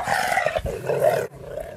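A wild dog growls and snarls loudly and close up in a continuous rough rumble that breaks off near the end, with no speech.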